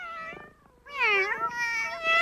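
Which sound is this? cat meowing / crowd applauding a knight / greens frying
cat meowing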